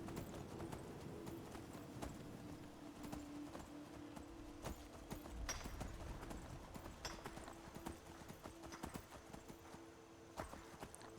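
In the Skyrim video game, a horse's hooves clip-clop in a steady walking rhythm, crisp sharp clacks repeating over a low ambient bed, moderately close and quiet overall.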